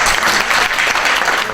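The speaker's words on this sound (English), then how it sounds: "We can give Dr. Seebacher a round of applause." Audience in a lecture hall applauding a doctor after a talk on non-operative knee arthritis treatment; loud, dense clapping from many hands, steady and close throughout the short burst.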